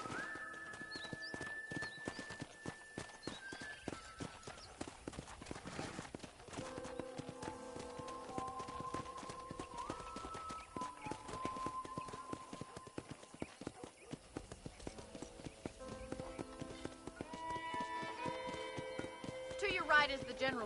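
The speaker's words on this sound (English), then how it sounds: "Okay, let's see if you can still ride a horse." Horse hooves clip-clop at a steady pace while riding around a ranch in the Red Dead Redemption video game, the footfalls faint under soft background music and ambient game sound, with a horse whinnying near the end.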